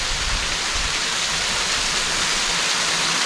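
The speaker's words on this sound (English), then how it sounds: "Here is the waterfall we're headed for." Steady roar of a waterfall on a stream in Acadia National Park in November, a dense continuous rush of falling water heard up close with no voices.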